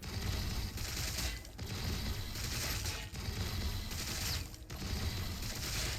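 Gunfire in the strategy game Warhammer 40K Battlesector, a dense and continuous battle din of rapid shots with brief dips, steady and moderately loud, with no talking.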